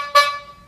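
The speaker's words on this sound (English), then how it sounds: "So 2 honks is no, and 1 honk is yes." A single short horn toot, bright and harmonic, sounds once clearly and then decays into quiet, given as a one-honk yes answer.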